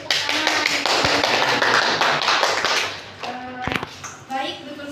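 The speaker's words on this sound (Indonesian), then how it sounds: "Beri tepuk tangan." A classroom of students applauds a mini submarine model presentation on Archimedes' principle: about three seconds of dense, close, loud clapping that thins out and fades, with children's voices chattering underneath as it dies away.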